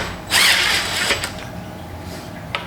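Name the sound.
drill with Allen extension tightening office chair bolts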